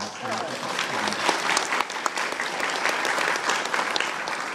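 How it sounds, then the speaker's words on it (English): Audience applause following a father's speech: dense, sustained clapping fills the whole stretch at steady loudness, with faint voices and cheers mixed into the crowd noise. "All right, I'm almost done. Stop clapping."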